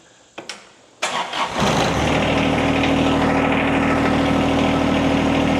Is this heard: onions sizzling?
no